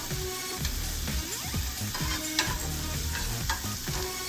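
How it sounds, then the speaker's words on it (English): Onions softening in a frying pan while being stirred: continuous close frying hiss broken by repeated scrapes and clinks of a utensil against the pan, with no talking. "we don't want to caramelize the onions. We just want to soften them a bit"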